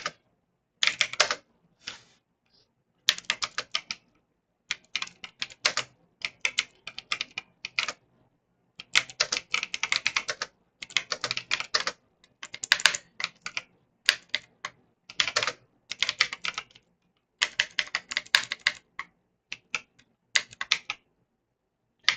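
Computer keyboard typing comes in bursts of rapid, close key clicks, broken by short pauses, with no voices.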